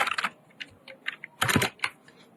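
Rapid clicks from a computer keyboard being typed on, short irregular bursts of keystrokes with brief pauses, close and crisp with no talking.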